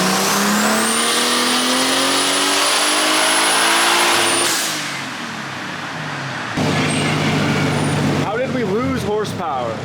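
A built, boosted BMW E36 on a dyno screams up through the revs in one long, loud pull, then winds down, followed by lower engine sound and people talking near the end.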